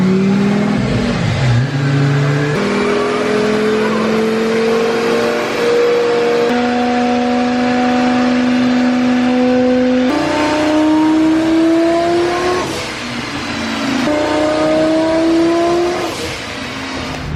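A twin-turbo Lamborghini engine revs loudly and continuously on a dyno, climbing through the gears in steady rising pulls with brief shifts between them, close up and unbroken.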